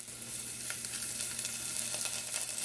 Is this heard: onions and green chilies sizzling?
yes